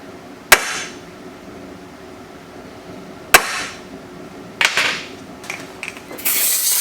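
Two sharp metallic strikes ring out a few seconds apart as a hammer hits a center punch marking holes in a metal mount on a hot rod build, followed by a few quicker taps and a hiss.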